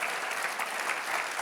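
A church congregation applauds during a Spanish-language sermon, a continuous wash of many hands clapping, moderately quiet and steady with no voices on top.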